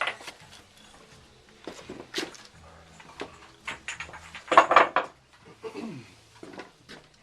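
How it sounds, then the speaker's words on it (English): Glazed porcelain pots clink and knock as they are lifted out of an electric kiln, scattered ceramic taps and scrapes with light clatter at intervals, fairly close and moderately quiet, with no talking. "let's get some more pots out of here"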